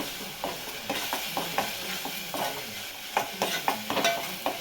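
A spoon stirs ginger garlic paste through a frying curry of antu pulusu, a Telangana dish, making repeated soft scrapes and knocks over a steady low sizzle, moderately close and without speech.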